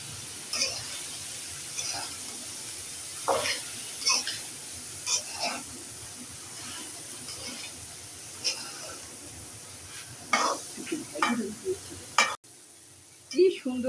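Ridge gourd stirred and frying with shrimp in a pan, a low sizzle under repeated scraping and stirring strokes, with a few louder clanks near the end.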